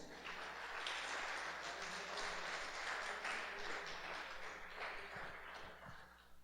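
Church congregation applauding together, a steady wash of clapping from many hands that holds loud and even for several seconds before thinning slightly at the end.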